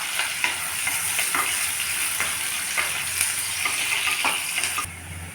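Onions frying in a pan for a curry of broad beans, eggplant and potato, a steady hiss of sizzling with repeated scraping and stirring clicks, close and continuous, no voices, easing off near the end.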